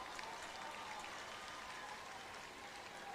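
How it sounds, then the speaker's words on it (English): Broad, steady crowd noise fills a stadium at a Grenada versus Jamaica men's international football friendly, a continuous distant roar with scattered clapping and no talk rising above it. "We hear the cheers from the crowd."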